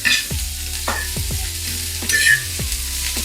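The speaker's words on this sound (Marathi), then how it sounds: "तर अर्धा चम्मच तेल घातलेले त्यानंतर कांदा कांदा आपल्याला लालसर भाजून घ्यायचा" Chopped onion fries in a little oil in a pan for a village-style mutton rassa, crackling and sizzling steadily while a utensil stirs it in a few distinct scraping strokes, close and clear with no talking.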